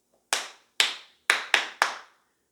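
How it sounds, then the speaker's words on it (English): Five sharp hand claps from a single person, close and crisp, the first two spaced apart and the last three quicker, with silence between them. "Miss Witherspoon clapped her hands."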